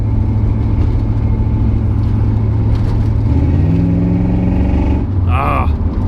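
A car engine runs and revs in a shop, the idle tone climbing and falling in pitch through several revs, loud and close, with a brief higher whine near the end.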